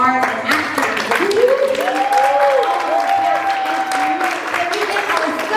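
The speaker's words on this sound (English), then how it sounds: "Can we have a final great big round of applause to all of our submitters and art and actors?" Theatre audience applause at a performance night, steady dense clapping from a crowd lasting throughout, with voices and cheering rising over it.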